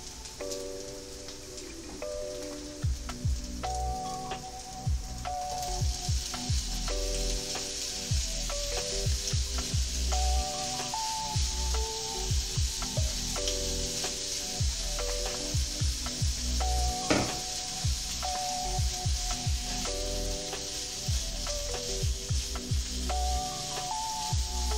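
Shrimp and orzo sizzle steadily in a hot pan, a constant frying crackle with intermittent stirring clatters and scrapes throughout, close and moderately loud with no talking.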